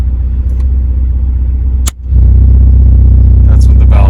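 A loud performance car exhaust, warmed up, idles with a steady low rumble, dropping out briefly before returning slightly louder and fuller as the electric cutout valve opens.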